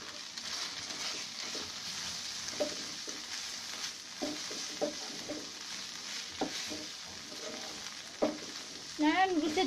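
Instant noodles with egg fry in a pan, giving a steady soft sizzle broken by repeated scraping and clacking stirs, with a brief louder burst near the end.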